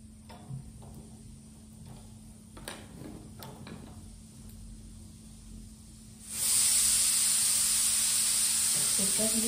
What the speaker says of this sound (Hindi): कुकर भी सीटी दे दिया।